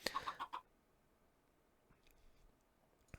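Chickens in the Minecraft-based Sky Factory 3 game give a quick run of clucks at the start, close and fairly loud, followed by near silence with faint clicks.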